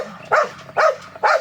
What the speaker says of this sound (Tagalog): ang ingay ng mga aso namin dito.